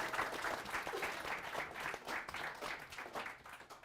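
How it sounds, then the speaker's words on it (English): Audience applause after a conference panel discussion, a steady crowd clapping throughout at moderate distance with no voices standing out. "how about a big round of applause for our panelists today?"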